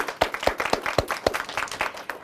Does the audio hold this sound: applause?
yes